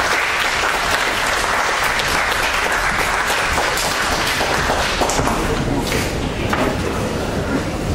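Sustained, dense audience applause at a Star Wars and science-fiction convention panel in Cusset, greeting the guest of honour Marco, with a crowd clapping evenly and fairly close throughout.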